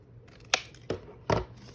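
Scissors cut down paper scraps for a tag, with three short crisp snips close by in a quiet room.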